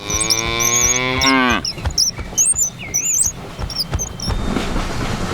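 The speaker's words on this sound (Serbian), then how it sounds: "Krava." A cow gives one long, loud, falling moo, followed by chirpy, whistling cartoon effects and a light rolling train sound.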